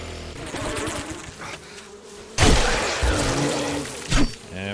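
Bees buzz in a desert survival video game, a dense insect drone running throughout with a sudden loud burst midway and a sharp hit near the end.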